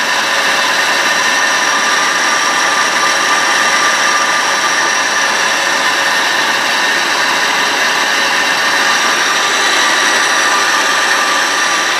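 Spindles of a Citizen M320 Type III CNC Swiss lathe spin at roughly 1500 to 2500 RPM, recorded a few inches away, producing a loud, steady machine whir with sustained tonal hum and no pauses.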